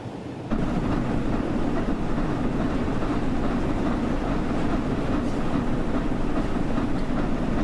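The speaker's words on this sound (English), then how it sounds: "I would have thought it would accelerate a bit harder with that much steam chest pressure, but guess not. It is a big train." A big steam train accelerates in the video game Train Sim World 4. A steady, loud rumble with a rhythmic rolling clatter starts abruptly after a moment of near silence and holds constant throughout.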